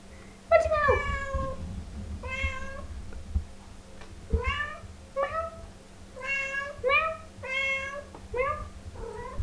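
A cat meows repeatedly in short, clear calls spaced across the clip, close by, with a steady low hum underneath and a little background talk.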